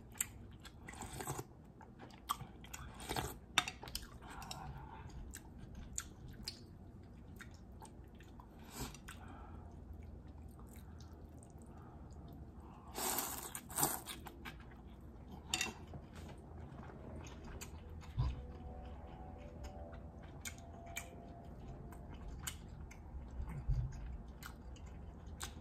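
Someone eats a bowl of pho with spicy pepper, making soft, close chewing, crunching and wet bites that come and go quietly over a faint background.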